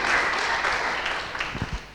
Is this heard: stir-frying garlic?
no